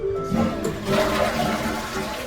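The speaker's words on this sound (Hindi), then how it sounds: "ये आपका WC के साथ अटैच्ड फ्लश है, फ्लश टैंक है।" A toilet with an attached flush tank flushing in Japan, a loud close rush of water that swells after a short start, then a steady gurgling refill.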